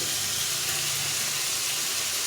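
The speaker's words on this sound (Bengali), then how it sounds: "এখন আমি দিয়ে দেবো এর মধ্যে এই টমেটোটা একটু ভেজে নেব" Tomato fries in a pan with spices, giving a steady, close, even hiss and sizzle that carries on without a break.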